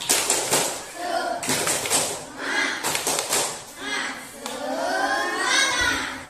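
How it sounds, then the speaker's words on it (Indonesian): A group of children in a physical education class clap in quick rhythmic bursts, mixed with loud chanting voices throughout. "Bagus, berikan aplaus, tepuk semangat."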